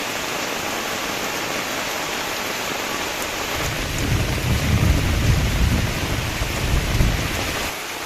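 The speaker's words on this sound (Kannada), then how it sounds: "ಈಗ ಮಳೆ ಬರ್ತಾ ಉಂಟು" Monsoon rain falls steadily in coastal Udupi, with a deep rumble of thunder swelling midway and fading near the end, loud and close.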